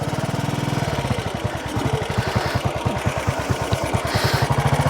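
British single-cylinder motorcycle engine running close by, a steady rapid thumping beat that quickens slightly as the ignition is advanced.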